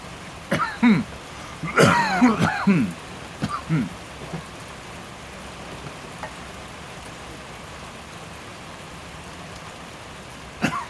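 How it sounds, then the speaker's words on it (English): Steady rain falls outdoors in a soft, even hiss, with a few brief throat-clearing or vocal sounds from someone nearby early on before the rain continues alone. "It started raining right before I started this video"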